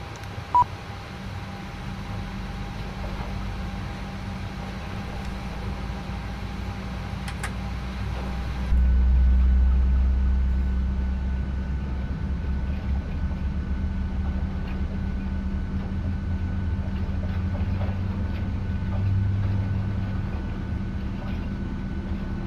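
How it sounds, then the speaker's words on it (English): A steady low engine drone hums throughout, rising in level and deepening partway through as the second jet engine of a Boeing 737-800 in a flight simulator game spools up, with faint tonal whines above. "as you can hear, we have a good engine start on both engines"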